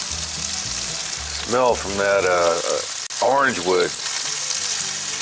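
Onions sizzle around corned beef in a cast iron pan on a Weber kettle grill, a loud, steady close frying hiss running the whole time, with someone talking over it.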